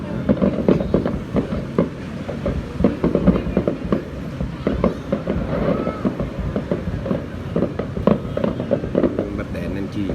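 Fireworks exploding over the sea at the Nha Trang sea festival, a dense continuous crackle and popping bursts from a distance, with people chatting throughout.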